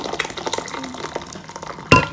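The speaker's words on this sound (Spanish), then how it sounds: "vamos a colocar nuestras 3 tazas de agua" Hot water poured from a container into a pot for strawberry cream gelatin, a short splashy liquid pour lasting about two seconds and ending in a louder burst, with no talk.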